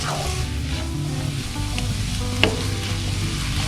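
Paneer sizzles and scrapes as it is stirred and fried with Kitchen King masala in a pan, a steady close hiss with faint utensil scrapes and one brief sharp clink.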